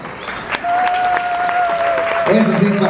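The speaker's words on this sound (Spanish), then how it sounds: "A ver, un aplauso fuerte." Audience applause at a live show, a loud, steady wash of clapping from a crowd. A sustained whistle-like tone runs through it, and voices rise near the end.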